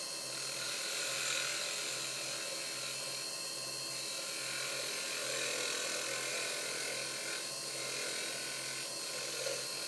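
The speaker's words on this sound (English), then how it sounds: "that way I can keep the lathe spinning" Woodturning lathe spinning while a pen blank is turned, a constant close rushing whir with faint scraping texture, steady and unbroken.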